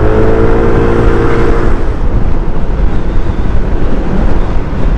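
Steady loud rush of a QJ Motor AX180 motorcycle on a short test ride, its engine drone blended with heavy wind buffeting throughout, a faint tonal hum easing off after the first couple of seconds.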